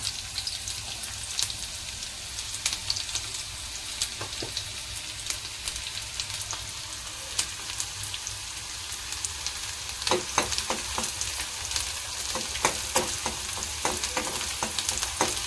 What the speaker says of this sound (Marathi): आपण त्याच्यात आता कांदा टाकूया।